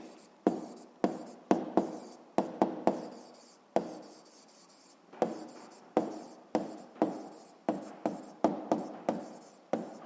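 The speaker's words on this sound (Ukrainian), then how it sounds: "записуємо відповідь." A pen writes an answer during a 7th-grade physics self-check task, making close scratchy strokes punctuated by many crisp taps in an uneven rhythm, quiet and alone without any talk.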